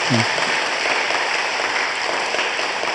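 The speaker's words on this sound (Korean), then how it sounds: "환영의 박수 한번 보내주시기 바랍니다" Dense, steady applause from a church congregation welcoming a member's son on a birthday Sunday, loud and continuous throughout with a brief voice at the very start.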